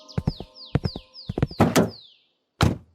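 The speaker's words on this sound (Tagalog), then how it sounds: "pinuksan ko ang pintuan ng kotse." A car door is opened as a sound effect in a story: a run of sharp clicks, clunks and latch knocks with short falling squeaks, then a brief pause and one final solid thunk.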